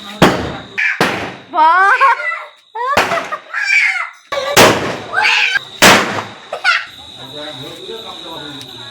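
Firecrackers bursting during a Laxmi puja celebration, several sharp loud bangs spaced a second or so apart, close by, with excited voices talking and exclaiming between the blasts.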